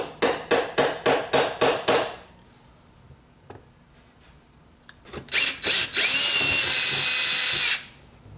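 A 3/16 bit drills into a zinc extrusion microphone base, first as a rapid series of about seven short, loud bursts, then a few scattered taps and a sustained whining run of drilling near the end.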